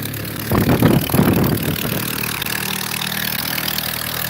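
A Ford Model A engine mounted on a Pietenpol aircraft, in its first run of the year, idles with a low, steady rumble after a brief louder surge at the start.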